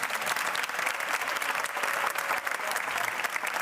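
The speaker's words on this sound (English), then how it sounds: "Round of applause for the camera crew, right?" An audience at a mental health conference applauds the camera crew, dense sustained clapping from a sizable crowd at steady loudness throughout.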